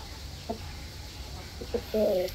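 Hens in a backyard poultry coop give a few soft, scattered clucks, the loudest burst near the end, over low background rumble.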